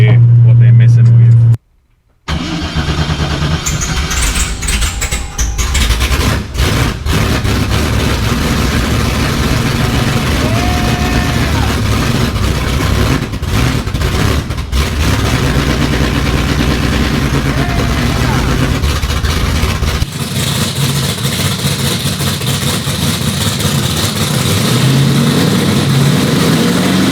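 A turbocharged custom-build car engine idles with a low rumble and revs in bursts, loud and close, with the tone shifting partway through, while people talk over it.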